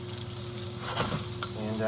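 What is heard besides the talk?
ginger sizzling in sesame oil in a pot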